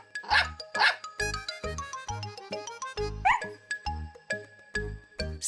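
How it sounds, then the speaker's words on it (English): A cartoon dog named Snuffy gives a run of short, bright, happy barks in a quick rhythm, interleaved with plinking musical notes. "Snuffy barked happily"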